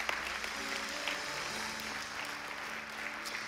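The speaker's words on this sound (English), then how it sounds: "Let's give the Lord a great big praise clap." Church congregation applauding together in a praise clap, a steady dense wash of clapping that fills the space without pause, with a faint murmur of voices underneath.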